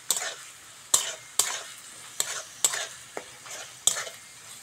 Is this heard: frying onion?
yes